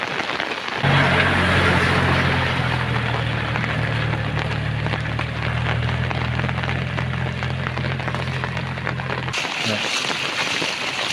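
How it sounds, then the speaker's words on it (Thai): Floodwater rushes steadily over a road for several seconds under a low, continuous vehicle motor drone that cuts off near the end. "น้ำไหล"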